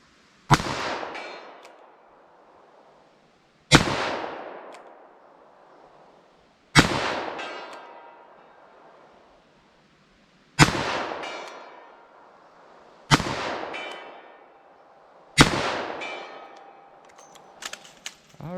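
Six loud, sharp revolver shots, .38 Special +P and .44 Special hand loads fired outdoors, spaced a few seconds apart, each with a sudden crack and a ringing decay.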